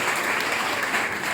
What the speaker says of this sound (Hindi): तालियां बजाइए अपने आप को